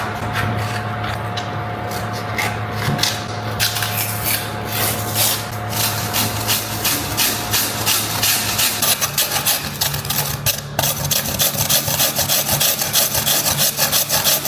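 Continuous rhythmic scraping and grinding as frozen milk is shaved for bingsu, a rough rasping sound repeating steadily over a low background hum.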